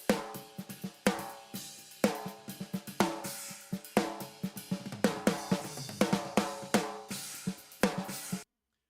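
Full drum mix run through a multi-band gate with no reverb, giving punchy kick and snare hits with crashing cymbals in a steady rock groove, tight and dry, playing throughout at a moderate level with no voices.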